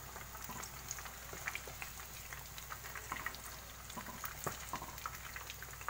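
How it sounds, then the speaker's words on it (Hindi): Chicken pieces shallow-frying in a pan make a quiet, even bubbling sizzle with small scattered pops and spits throughout. "ये अच्छे से फ्राई हो गए हैं"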